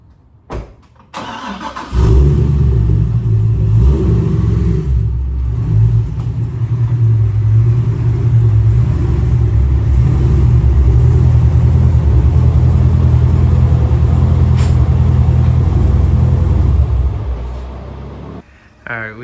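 A widebody Corvette's engine starts with a short burst, then rumbles deep and loud at close range as the car rolls into a garage on a hot Florida day, cutting off near the end.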